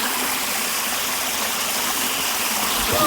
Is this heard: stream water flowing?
yes